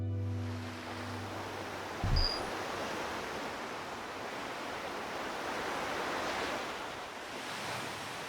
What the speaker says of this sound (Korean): 바닷물이 들고 나는 이곳